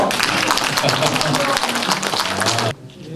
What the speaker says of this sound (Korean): 큰 박수 한번 부탁합니다